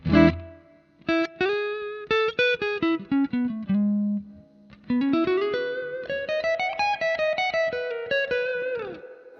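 Distorted electric guitar notes through a Roland JC-120 amp are played in a descending then rising run, each ringing with a loud spring-reverb tail from a short tank; no talking, just close, clear amplified tones.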